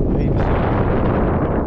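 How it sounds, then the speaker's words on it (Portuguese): Strong wind roars steadily and loud across an open fishing spot on the water, a dense continuous rush with gusty buffeting on the microphone. "Agora a ventania enlouqueceu aqui, mas... assim mesmo, o vento faz parte."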